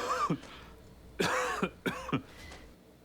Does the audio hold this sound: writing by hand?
no